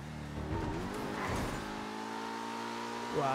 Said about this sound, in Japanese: このなんかアイドリングの感じいいっすね